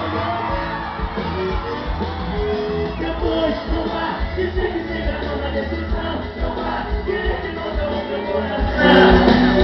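A live concert crowd at a Brazilian sertanejo show whoops, shouts and cheers throughout, swelling louder at the end, mixed with amplified music and a singer's voice.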